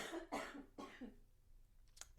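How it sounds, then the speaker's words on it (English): Coughing, three quick harsh coughs close to the microphone followed by quieter throat-clearing sounds in an otherwise quiet room. "More coughing."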